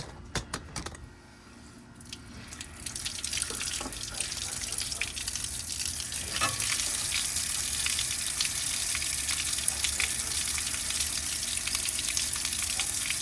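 Steady rushing and splashing of water draining out of a pop-up camper's water heater, continuous and close, with a few clicks and knocks at the start.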